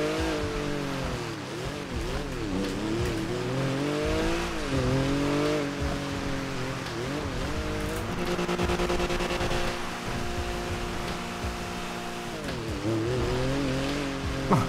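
A four-wheel-drive car drifting in GTA 5, its engine droning and rising and falling in pitch with revs, a continuous loud whine layered with tire noise and no speech.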